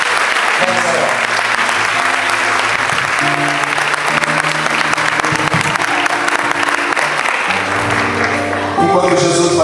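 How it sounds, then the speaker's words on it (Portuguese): A church congregation applauds for Jesus, with steady, loud clapping throughout while an organ or keyboard sustains chords underneath. "vai dando uma salva de palmas para Jesus"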